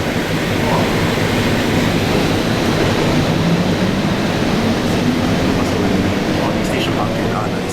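Alstom Innovia APM 300R LRT train running on the Bukit Panjang line in Singapore, a steady, loud rumble with rolling noise heard from inside, continuous and unbroken throughout.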